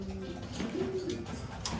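Five-month-old breeder pigeons in a loft cooing softly, low throaty burbling notes close by over a faint background, brief and gentle.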